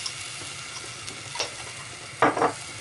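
Butter melting in a pan for a Jamaican brunch of boiled dumplings and steamed cabbage, a low steady sizzle with a few soft stirring scrapes and a brief louder clatter near the end, no voices.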